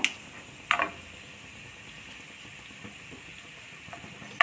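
Peanuts and chana dal frying in hot oil in a pan while making cluster beans rice, giving a quiet, steady low sizzle with a few brief louder crackles near the start and end.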